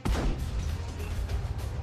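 A tank's main gun firing in World of Tanks, an Object 140 shooting at an E50M, gives a booming low-heavy blast with a sustained rumbling tail that fills the short moment, with no talk over it.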